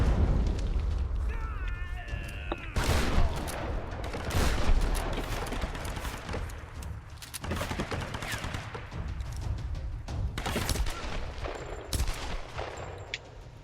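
Rapid bursts of pistol gunfire from the Tomb Raider video game, with repeated sharp shots and booms in quick succession over a continuous backdrop of game sound effects.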